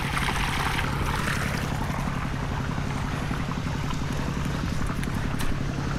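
Two engines run together, pushing a strong flow of water into furrows; a steady, loud, low droning rumble with an even pulsing throb and a hissy wash above it, continuous throughout with no talking.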